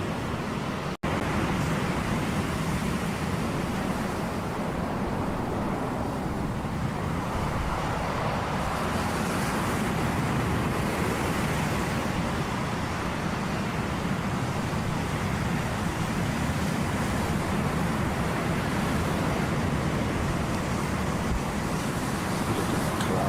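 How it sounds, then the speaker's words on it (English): Steady, distant roadway traffic from a back road, a continuous broadband wash of passing cars with no distinct individual vehicles, no talking. "Distance, you hear the cars too."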